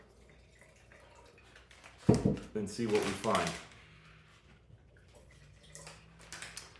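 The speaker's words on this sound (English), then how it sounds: "So let's pour them both out" Red and white wine is poured into glasses: a close, splashy pour lasting roughly two seconds, with glassy ringing, after which it falls quiet. Someone speaks briefly around it.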